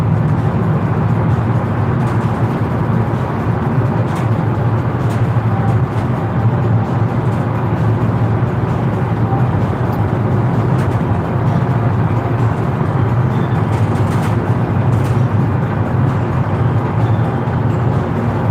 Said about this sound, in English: It's a lot of traffic for a Friday morning.